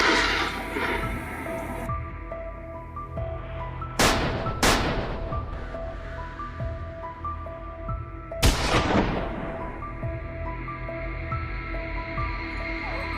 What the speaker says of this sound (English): echoing gunfire merged into a tense, adrenaline-filled atmosphere